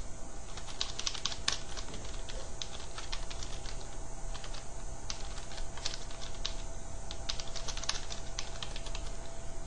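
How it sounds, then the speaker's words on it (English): Steady, rapid typing on a computer keyboard while a blog post is written, with dense close-up key clicks running continuously and no voices. "And you can write here your introductory paragraph."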